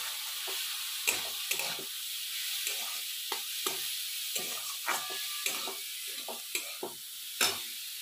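Food sizzles steadily in a pan over a low gas flame, a soft continuous hiss broken by repeated light scrapes and stirring clicks, close and without talking.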